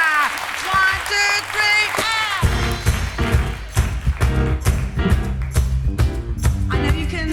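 Audience clapping in time with live music at a concert hall performance, rhythmic claps over bass and piano-like tones after a brief sung or played opening, steady and fairly loud.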